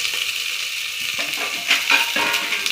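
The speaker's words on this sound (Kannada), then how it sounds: "ಈರುಳ್ಳಿ ಹಾಕ್ಕೊಂಡು ಫ್ರೈ ಮಾಡ್ಕೋಬೇಕು." Onions with green chilies and curry leaves frying in a pan, a loud, steady close sizzle with a few light scraping stirs partway through.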